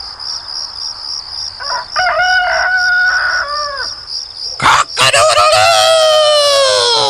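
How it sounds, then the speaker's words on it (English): A rooster crows, first a shorter call then a long, loud cock-a-doodle-doo, over a constant high chirping of crickets. "Cock-a-doodle-doo! says a rooster"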